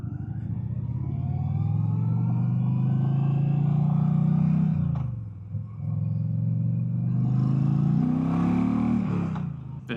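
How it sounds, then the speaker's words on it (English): A 2025 Indian Challenger Limited bagger motorcycle with its factory exhaust revs hard and close, two long deep rising pulls separated by a brief drop, with no talking. "Factory exhaust just absolutely barks."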